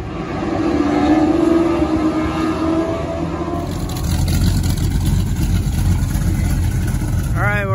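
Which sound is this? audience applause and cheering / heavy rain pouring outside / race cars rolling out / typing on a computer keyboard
race cars rolling out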